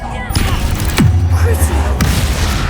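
A Confringo fire spell blasts off in Hogwarts Legacy, a sudden whooshing burst with a falling roar, then a steady rumbling burn over game noise, with a second sharp crack near the end.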